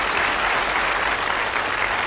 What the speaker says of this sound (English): I think that might be worth a round of applause there